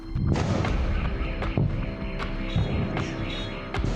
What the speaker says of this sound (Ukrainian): І таких вибухів на півострові лунає дедалі частіше.